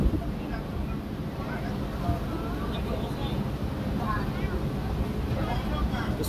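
A boat speeds along the Mekong River in Laos. Its engine drones steadily under wind rush against the microphone, and a voice talks over it throughout.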